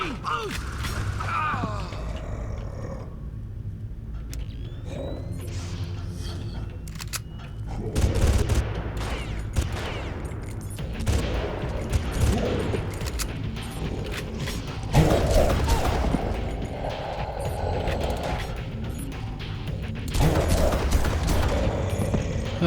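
Gunfire in the Far Cry 1 video game comes as scattered bursts and single shots, fairly faint under mechanical clatter and in-game ambience.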